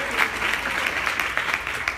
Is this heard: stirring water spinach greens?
no